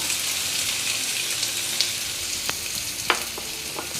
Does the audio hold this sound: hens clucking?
no